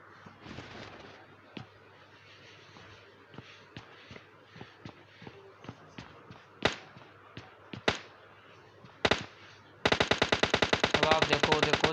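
Gunfire in PUBG, with several sharp single shots spaced apart, including heavy cracks from an AWM sniper rifle, followed by a loud, rapid burst of automatic fire at the end.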